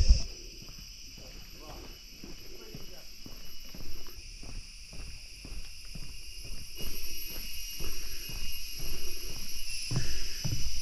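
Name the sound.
cicadas and crickets on Penang Hill, Malaysia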